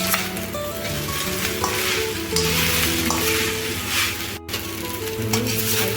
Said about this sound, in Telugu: కొంచెం ఉప్పు తగినంత ఉప్పు కారం మ్యాగీ మసాలా వేసి హై ఫ్లేమ్లో పెట్టి తిప్పుకుంటూ ఉండాలి.